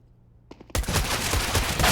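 Rapid MAC-10 submachine gun bursts in Counter-Strike on the Mirage map, a quiet lead-in and then a sudden dense stream of close, loud automatic fire.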